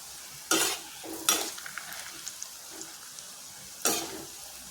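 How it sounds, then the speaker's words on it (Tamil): Snake gourd chilli pieces frying in oil on medium flame while being turned with a spatula, soft sizzling under three sharp scraping stirs and light clinks, no talk. "நல்லா ரெண்டு சைடும் திருப்பி நல்லா மொறு மொறுன்னு வேக விட்டுக்குவோம்"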